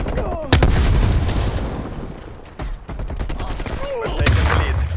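In a Call of Duty: Black Ops Cold War match, a stun grenade is thrown amid combat, with loud, sharp bangs and gunfire cracking at close range over a rumbling battle backdrop, and a voice speaking at times.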